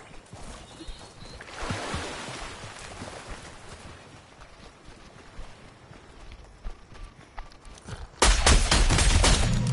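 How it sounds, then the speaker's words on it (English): Gunfire in a Fortnite match, with a rattle of shots and clattering sounds early on, then a sudden loud, dense burst of close firing near the end, with little talk. "Who's shooting?"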